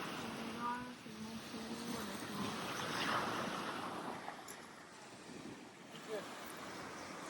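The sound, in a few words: sea waves on a beach in Italy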